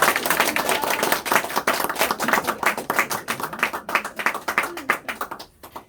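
An audience at a lecture gives a burst of applause, many hands clapping in a dense patter that thins and fades over several seconds, with some voices mixed in.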